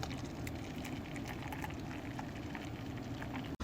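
Hot water pours steadily over a teaspoon of freeze-dried instant amaretto coffee in a cup, a continuous close bubbling trickle with no talk, cutting off abruptly at the end.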